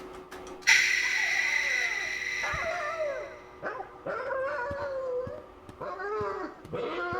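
A dog in The Classrooms video game reacts to a dog whistle with wavering whines and howls after a sharp high whistle, rising and falling repeatedly at moderate volume.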